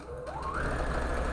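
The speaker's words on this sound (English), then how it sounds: "I'm gonna sew" A sewing machine stitches in a steady whir, its motor pitch rising quickly and then holding a constant hum, close and alone.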